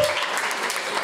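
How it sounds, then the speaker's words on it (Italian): Brief burst of audience clapping at a live face-to-face dating show taping in Milan, dense and steady for about a second. "Un applauso, raga."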